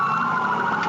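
Police car siren wailing during a high-speed chase on a highway, a loud steady tone heard briefly and close, with no talking.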